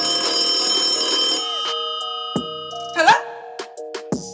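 A telephone rings inside a rap song, bright electronic ringing tones layered over the beat, then the music drops away leaving sharp isolated chimes and short accents near the end.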